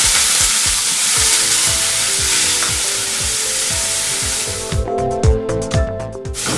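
Ginger garlic paste sizzles and fries in hot oil for a channa masala, a steady loud crackle with quick stirring knocks throughout, changing tone near the end as the pan quiets slightly.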